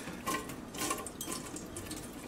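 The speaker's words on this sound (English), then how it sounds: "So what I'm gonna do is I'm gonna pour that hot water" Hot water is poured in short, faint splashing bursts while glassware is being made, soft and close with no talking.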